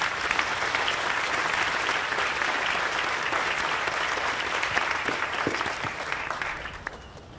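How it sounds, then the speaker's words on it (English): Sustained, dense applause from a large audience at a 2021 school graduation ceremony honoring award recipients, steady and full for the whole stretch before tapering slightly at the end. "give them a well-deserved round of applause"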